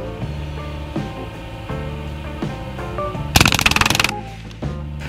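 A Hatsan Blitz .25 full-auto PCP airgun fires a rapid burst of about a dozen sharp, closely spaced cracks lasting under a second outdoors, with a loud musical backing track playing throughout.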